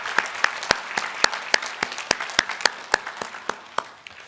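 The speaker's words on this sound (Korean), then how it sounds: "우리 박수로 또 축복해 주시고 격려해 주시면 감사하겠습니다" A church congregation applauds to bless missionaries, with sharp, evenly spaced claps standing out over a softer wash of clapping, close and brief.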